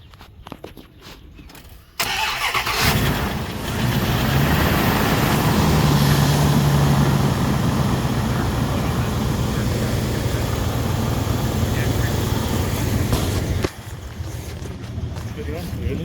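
An engine turns over and catches, then settles into a steady running hum for several seconds before cutting off, with people speaking nearby; the vehicle stalls after warming up and is having its timing chain and sprocket replaced.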